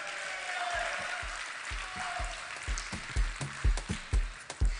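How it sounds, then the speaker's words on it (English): A conference audience gives a round of applause for a Rotary Club past president, a broad wash of clapping that thins out as a few louder, closer claps stand out near the end. "Can you have a big round of applause?"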